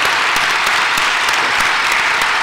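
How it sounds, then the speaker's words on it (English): An audience claps loudly and steadily at a grand opening event in Manhattan, a dense sustained applause with a few sharper claps standing out. "let's give them a big applause for all of you"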